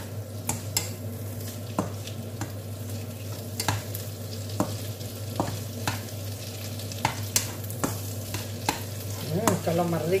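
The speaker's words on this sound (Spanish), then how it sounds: "Echamos la salsa verde a la carne." Green sauce poured over meat frying in a pan for a rice dish with lean pork and chorizo, giving a steady close sizzle broken by clicks of stirring and utensils.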